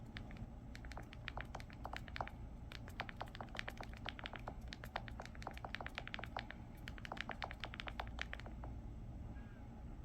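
Rapid clicking of buttons on a flip phone keypad, a dense run of quick, light taps coming close and steady for about ten seconds with no speech.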